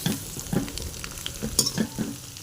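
Food sizzles in a little oil in a large kadai while a spoon scrapes and stirs in short, irregular strokes, close by and fairly quiet.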